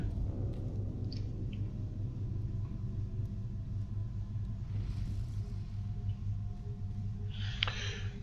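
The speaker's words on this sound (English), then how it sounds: "wait for the lightning to pass by" In the video game Secret World Legends, a deep lightning rumble rolls on steadily for several seconds around a tower test site. It is low and continuous, with a brief hissing crackle near the end.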